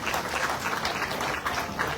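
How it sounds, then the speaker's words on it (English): An audience at a Ramayan in the Park gathering claps steadily for a builder and his executive, a dense, sustained round of applause with no pauses. "So give him and his executive a big round of applause"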